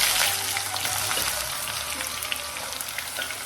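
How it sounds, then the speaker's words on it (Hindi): Chopped onions sizzle and crackle steadily in a hot pan, a close, continuous frying hiss with small pops and no voices. "जल्दी से हमारी जो प्याज कट की है हमने वो डाल देंगे,"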